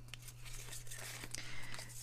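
Double-sided tape is pulled and torn off a roll for gluing a hexagonal craft pouch, giving soft, quick crinkly rips and rustles over a steady low hum, close and quiet.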